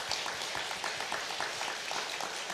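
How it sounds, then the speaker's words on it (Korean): Church congregation clapping during a Sunday worship service, a steady wash of many hands sustained throughout at moderate, even loudness. "하나님께 영광의 박수합니다."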